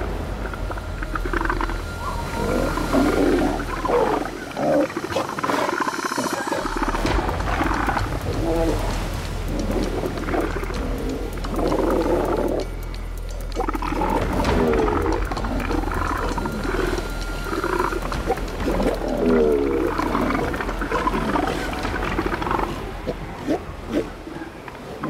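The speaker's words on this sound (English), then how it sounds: "When the older bull's had enough, he lets loose a terrifying roar which subdues his opponent." An older bull roars at a younger rival in the wild: deep, rumbling roars and growls carry on continuously, loud and close, with scuffling and rustling in between.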